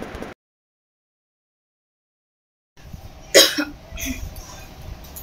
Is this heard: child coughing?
yes